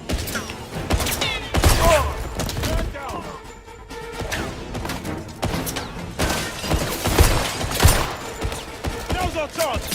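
Heavy bursts of automatic gunfire and crashing impacts in the spy shooter 007 First Light, loud and close, coming in volleys with short pauses and mixed with shouted voices.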